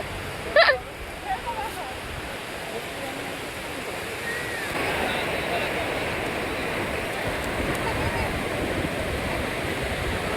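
Sea waves wash onto a beach at sunrise in a broad, steady rushing roar with some wind noise, and a brief voice and bump near the start.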